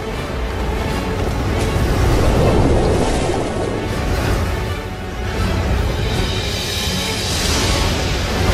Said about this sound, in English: creating huge tides that race across the planet's surface